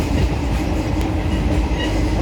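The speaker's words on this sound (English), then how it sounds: "the train name is Hapa SF Express from Ahmedabad to Madgaon" Hapa SF Express passenger train running on rails between Ahmedabad and Madgaon, a steady continuous rumble and rail noise with faint clickety-clack, loud and close throughout with no talking.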